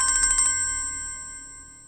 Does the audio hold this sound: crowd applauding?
no